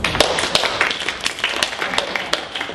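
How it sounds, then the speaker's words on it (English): Scattered clapping from a few people in a webinar, a thin, uneven patter of sharp taps lasting a few seconds with no voices over it. "give Jan an applause"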